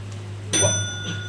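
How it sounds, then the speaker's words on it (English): A bell rings once during a science quiz, a single bright ding over a low steady hum, followed by a short ringing decay. "She's ringing the bell now, right?"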